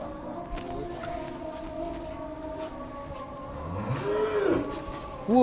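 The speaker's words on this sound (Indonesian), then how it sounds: "Nah ini sapi Prabowo, Pak Prabowo." A very large sacrificial cow moos in a long, low drawn-out call, fairly close, followed by another rising moo at the end, with background rumble and no talking.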